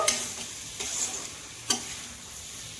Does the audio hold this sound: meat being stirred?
yes